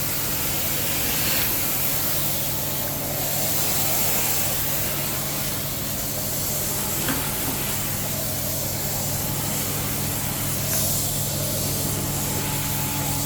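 Butler carpet cleaning wand making extraction strokes across carpet with high-speed air movers and fans running, a steady loud rushing hiss and suction roar throughout, with slight surges between passes.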